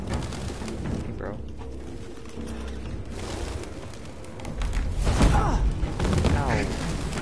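Pigeons coo in the video game Detroit: Become Human, soft repeated bird calls mixed with thumps and a voice talking over them throughout.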